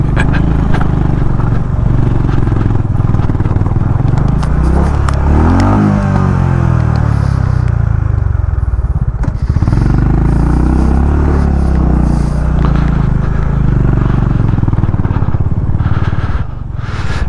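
Motorcycle tyre slipping and scrabbling over loose stones on a steep incline near Thang, the last Indian village by the border, with a loud steady engine rumble, revving surges and gritty clatter throughout.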